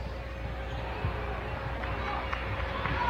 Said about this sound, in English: Now the Bruins students spill onto the court from the cheering section.